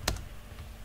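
A single quick keystroke on a computer keyboard while typing a Linux mount command, a short close click followed by a faint second tap, in a quiet room.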